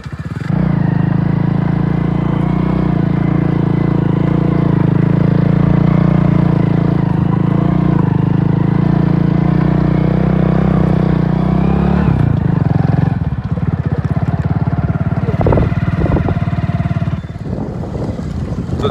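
A motorcycle rides along a slippery, muddy road with a close, steady engine drone. The drone shifts partway through, and clattering and knocks follow.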